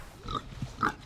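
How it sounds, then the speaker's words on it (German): Two Kune Kune pigs on a farm in Saxony-Anhalt give a few short, soft grunts close by in quick succession. "Das sind 2 neuseeländische Weideschweine, auch Kune Kune genannt"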